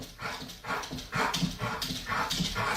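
A dog makes repeated short whining, whimpering bursts in a steady rhythm, fairly quiet and close, with no talk over it.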